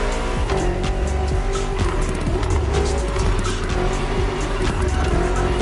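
A BMW M car driven in The Crew Motorfest racing game, engine droning steadily and loud throughout with repeated tire squeals and skid noises over a busy, continuous roar.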